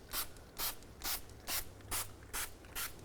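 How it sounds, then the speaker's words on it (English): A trigger spray bottle of degreaser mists into a car's inner fender wells, giving seven short, evenly spaced hissing bursts in a steady rhythm, fairly quiet and close. "I'm gonna go ahead and spray my inner fender wells as well with this"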